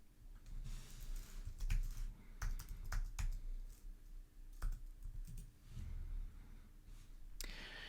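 A password being typed on a computer keyboard, a run of quick, close key clicks in uneven bursts with short pauses, no talk over them.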